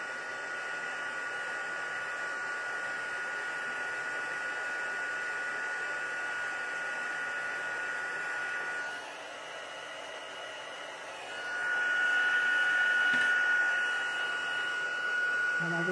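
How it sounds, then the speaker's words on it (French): An embossing heat gun blows a steady, hissing whoosh while melting embossing powder on a card, the airflow pitch shifting slightly as it is moved closer near the end. "j'ai éloigné mon fer à chauffer pour pas que la poudre revole trop"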